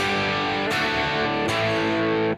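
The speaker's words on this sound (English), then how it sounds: "it's kind of crunchy a bit because I'm playing it pretty hard" A Gretsch Malcolm Young model electric guitar strummed hard with a crunchy, slightly distorted tone; two strong chord attacks ring out loud and close, then cut off.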